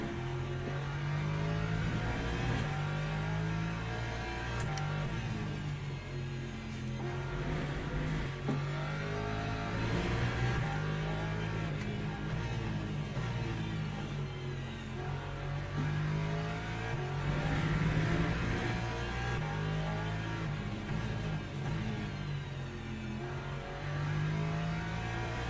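Race car engines in the sim racing game Le Mans Ultimate, with an LMP3 prototype closing in from behind: a continuous engine drone rising and falling through gear changes and revs, loud and steady throughout with no talk.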